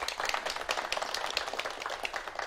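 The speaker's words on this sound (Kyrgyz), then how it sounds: "Кол чаап коюңуздар." An audience at a university's 90th anniversary ceremony applauds a guest with dense, continuous clapping, heard faint and somewhat distant with no talking.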